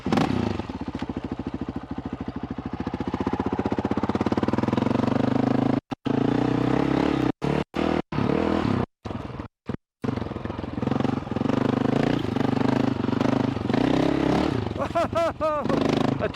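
A Honda CRF450RL dirt bike engine runs loud and close while riding on muddy ground, with a rough droning roar, several sudden cutouts, clattering, and a voice speaking over it.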